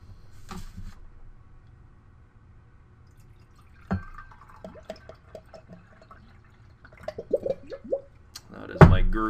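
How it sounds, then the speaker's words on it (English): A home water jug gurgles in quick bubbling bursts with drips, faint at first and then a clustered run of louder glugs toward the end, in a quiet room. "That's my water jug at home that you're hearing gurgling there."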